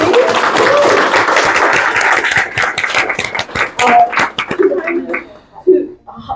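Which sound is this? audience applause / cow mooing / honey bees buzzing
audience applause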